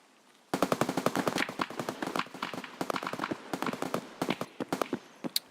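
Rapid automatic gunfire in the video game Escape from Tarkov, loud and close, firing in long bursts of sharp shots with short gaps, no talking over it.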